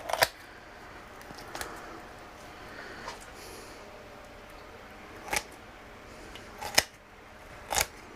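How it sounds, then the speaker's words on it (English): Sharp kitchen shears cut along each side of a raw chicken's backbone, giving several distinct crisp snips spaced a second or more apart over a quiet room background. "Cut down each side of the backbone."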